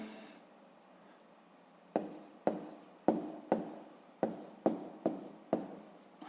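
Pen or chalk writing out a math answer for a sixth-grade exercise, heard as a quiet stretch followed by about eight sharp, evenly spaced strokes or taps, close and alone with no talk.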